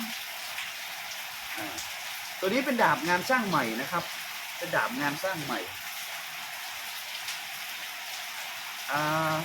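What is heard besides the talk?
rain falling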